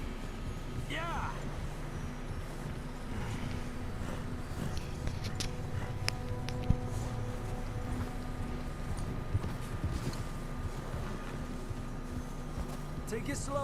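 Hooves of a horse clip-clopping along at an easy walking pace in the video game Red Dead Redemption 2, the steady rhythmic clopping set against outdoor ambience and music, with a voice talking over it.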